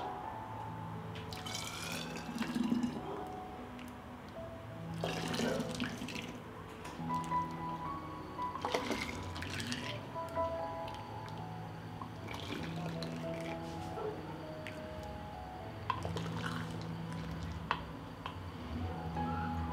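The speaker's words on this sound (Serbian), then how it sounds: "I sada ovako vreo sok sipamo u flaše" Hot juice pours and drips intermittently into glass bottles, with soft clinks and splashes recurring every few seconds, close and fairly quiet.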